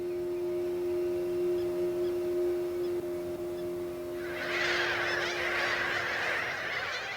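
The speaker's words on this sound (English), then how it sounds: "Mediterranean gulls brood in their thousands." Mediterranean gulls brooding in their thousands in the Venice lagoon: a steady low drone fills the first half, then a dense, continuous chorus of calls swells in and carries on loudly to the end.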